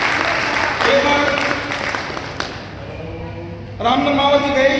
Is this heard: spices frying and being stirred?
no